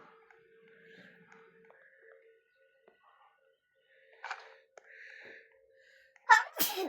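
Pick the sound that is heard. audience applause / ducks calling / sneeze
sneeze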